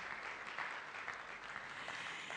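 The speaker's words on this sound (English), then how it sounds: "a round of applause for Indomie" Applause from the audience at the Indomie hero awards is a steady, dense patter of clapping heard from some distance, fairly faint throughout.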